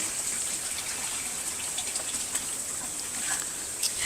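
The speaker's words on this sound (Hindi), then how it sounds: "हर मौसम में इसी तरीके से धारा चलती रहती है, कभी ये धारा रुकती नहीं है।" A spring-fed stream flows steadily at a Chitrakoot site, a continuous close rushing and gurgling of water with no voices.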